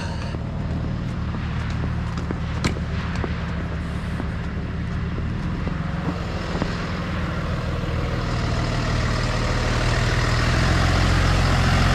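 Heavy trucks rumble and idle on a road-cutting job site, a loud continuous low engine drone that swells slightly toward the end, with no talk.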